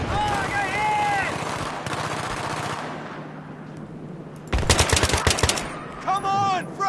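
Machine guns rattle in Battlefield 3 combat, with loud close bursts of rapid fire breaking through the din of battle and shouting voices heard over the gunfire.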